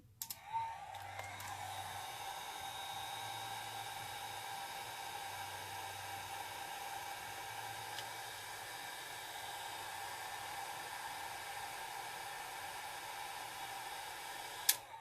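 A dryer blows steadily to dry alcohol ink on a tile, a constant airy whoosh with a low hum running for the whole stretch, fairly quiet, with small clicks at the start and end.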